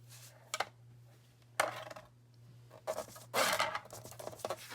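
A blade scores and rubs along a paper file folder during a crafting project, giving several separate scraping strokes of varying length over a steady low hum, close up and with no talk.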